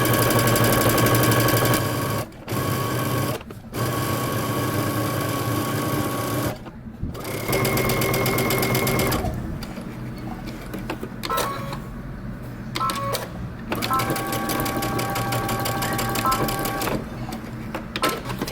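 A sewing machine stitches the seams of a shirt dress, running in loud, steady motor bursts with a few short stops where the stitching pauses and restarts.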